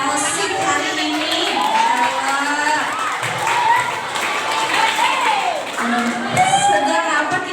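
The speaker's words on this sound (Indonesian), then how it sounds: "Kita kasih tepuk tangan dulu yuk buat anak-anak Arosik hari ini" Children at a pesantren tahfidz Islamic boarding school clap and cheer together, a lively continuous crowd of young voices with shouts and whoops rising over steady applause throughout.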